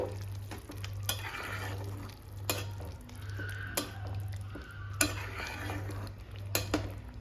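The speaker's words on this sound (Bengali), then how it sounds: "আর তারপরে ভালো করে আমরা একবার নাড়িয়ে দেব।" A sweetened rice dish stirred in a pan, with repeated sharp scrapes and clinks of the utensil over a soft frying sizzle and a low pulsing hum in the background.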